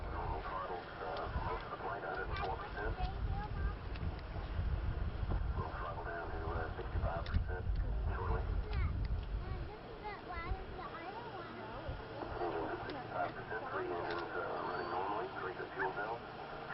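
Low rumble of the Space Shuttle Challenger launch at Kennedy Space Center in 1986, rolling in from far away as a deep, broad roar with wind-like buffeting, heard under excited voices of onlookers.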